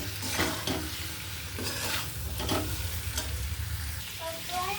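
A vegetable frying in a pan as salt is stirred in: continuous close sizzle broken by several rhythmic scraping stirs of a spoon against the pan, with no talk.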